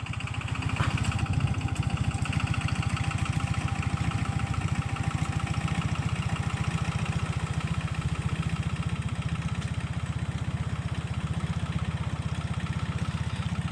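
A tractor engine runs steadily in a farm field, a continuous mid-pitched chugging drone at constant loudness throughout, fairly close, with no talking.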